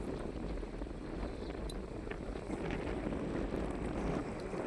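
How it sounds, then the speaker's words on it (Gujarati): Strong wind at a lakeside buffets the microphone in a dense, steady roar that persists through the whole stretch, with no voices heard. "ફૂલ પવન છે"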